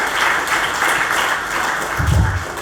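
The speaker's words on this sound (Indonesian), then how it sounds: "Kasih tepuk tangan itu tuh." A short burst of crowd applause from a church congregation during a Christmas sermon, dense and fairly loud, with a low thump near the end.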